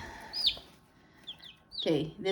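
Black Orpington rooster and chickens clucking close by in short bursts, with a couple of sharper high calls breaking up the quieter stretches.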